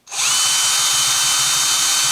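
Power drill boring into metal hardware on a handmade leather bracer, spinning up sharply and then holding a loud, steady high whine close to the microphone.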